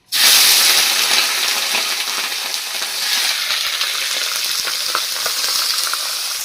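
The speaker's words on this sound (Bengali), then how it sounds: "কড়াই তেল গরম হয়ে গেছে, এবার খাসির চর্বিগুলো দিয়ে দিচ্ছি।" Loud, steady sizzling of goat fat frying in hot oil in a wok, starting abruptly and crackling continuously with small pops throughout.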